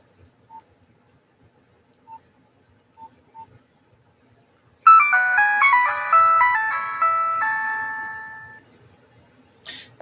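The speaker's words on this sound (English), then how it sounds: "that there was one of my favorite ringtones." A phone ringtone plays a bright, melodic electronic tune of stepped tones for several seconds, then fades, preceded by a few faint isolated beeps in near silence.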